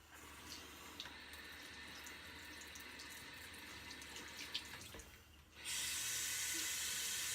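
Cold water runs from a bathroom tap for rinsing a shaving razor, a steady broadband hiss that grows noticeably louder and brighter for the final couple of seconds as the flow increases, with no talking.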